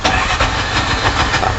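Bajaj motorcycle engine cranking and catching after its two-way alarm is unlocked, a close, loud mechanical churn with rhythmic pulses settling toward an idle.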